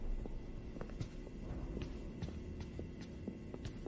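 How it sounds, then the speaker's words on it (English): Footsteps in the FNAF Security Breach video game, a series of soft, evenly paced steps over a steady low background hum, moderately close and without talk. "I hear footsteps!"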